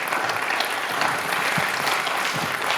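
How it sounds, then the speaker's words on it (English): Conference audience applauding panelists after a hemp research session, a dense, even roar of many hands clapping steadily, close and filling the room with no voices over it. "let's have a round of applause for the panelists"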